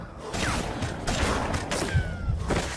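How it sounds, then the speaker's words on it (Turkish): Gunfire heard as a rapid fusillade of sharp cracks and thuds, several shots spread across a few seconds at moderate distance, with no talk over it. "Sonra da silah sesleri geldi."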